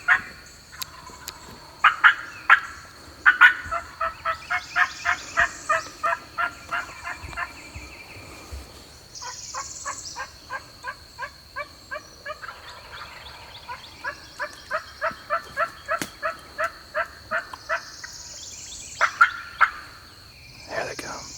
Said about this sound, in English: when they're gobbling that good